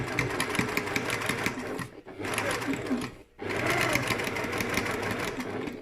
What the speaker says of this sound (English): I have just lengthened this stitch a little bit because we are top stitching and not sewing.